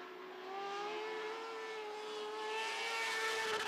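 Lightning sprint race car engines scream at very high revs on a dirt oval, a sustained, rising and falling whine with layered tones that grows slightly louder as the cars sweep past.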